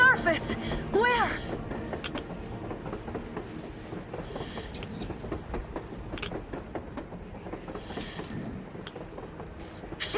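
Train rolling across the surface in the video game Metro Exodus, a low rumbling run of clanks and creaking metal that carries steadily throughout, heard at moderate distance beneath voices talking.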